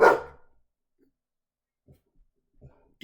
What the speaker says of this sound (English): My dog went nuts.